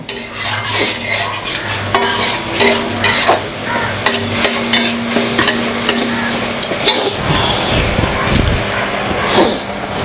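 Masala for a light, spicy rohu fish head kalia being sautéed with a little water in a pan, with steady stirring and scraping, clinks of a utensil against the pot, and a soft sizzle underneath, close and fairly loud.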